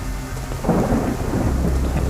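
Thunderstorm in the game Undawn: steady heavy rain hiss with a deep rumble of thunder swelling in partway through and rolling on, no voices.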